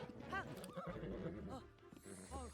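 A horse in the video game Zelda: Tears of the Kingdom neighs repeatedly in short whinnies over hoof clops, fairly quiet and close, with a few bursts spread across the moment.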